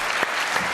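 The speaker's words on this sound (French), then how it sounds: "quelques applaudissements pour Monsieur Oui" Studio audience applause on a French television talk show, a steady broadband wash of clapping filling the whole short moment at moderate loudness with no voices over it.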